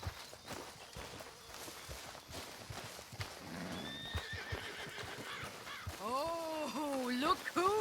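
A horse in Red Dead Redemption 2 neighs loudly near the end, a rising, quavering whinny following quieter hoof clops, footsteps and faint ambient game sounds, with a brief voice in the background.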